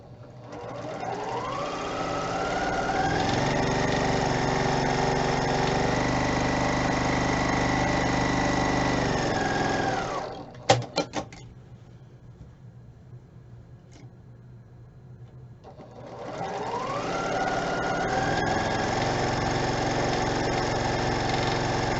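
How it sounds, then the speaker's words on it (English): A sewing machine runs steadily for about ten seconds stitching quarter-inch seams on quilt fabric for half-square triangles, stops with a few clicks, then starts up again for another long run; no talking. "we're going to sew 1/4 inch on either side to make 2 half square triangles"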